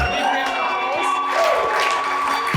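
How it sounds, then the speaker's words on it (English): An audience at a wedding reception claps and cheers, a dense wash of applause with scattered whoops, while voices carry over it. "applause"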